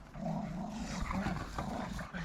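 Dogs growl and grumble continuously nearby, a low rumbling snarl with rough textured bursts over a steady background noise.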